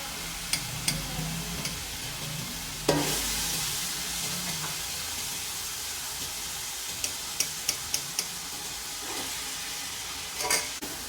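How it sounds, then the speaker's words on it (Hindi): Steady sizzling and frying of boiled black chickpeas in a pan, with occasional sharp clinks and scrapes of a spoon stirring, no talking. "चार से 5 मिनट तक मैंने इनको भूनना है।"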